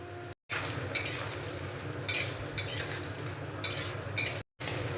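Onion pieces stirred and frying in hot oil with garlic and ginger, a soft steady sizzle broken by several scraping stirs and light clinks of a utensil against the pan, close and quiet, with no talk.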